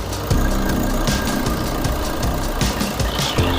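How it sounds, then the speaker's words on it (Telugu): A 2016 Maruti Swift Dzire VDi diesel engine idles steadily at close range, a low continuous rumble with a faint rhythmic knock and no voices. "ఇంజన్ నాయిస్ వచ్చు చాలా స్మూత్గా ఉంది"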